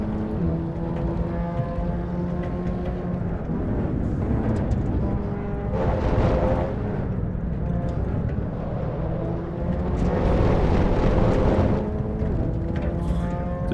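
A race car in a racing video game circuits Imola with its engine held at full throttle, a loud continuous high-revving drone that rises and shifts pitch through the run, swelling twice to brighter peaks, with no talking.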